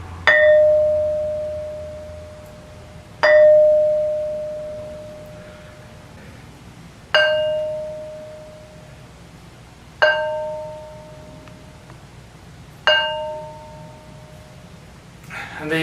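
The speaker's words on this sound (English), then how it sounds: "Demonstration how these stones ring like bells" An ancient stone is struck five times, and each hit rings out clearly like a bell. The tone hums on and fades slowly over several seconds before the next strike.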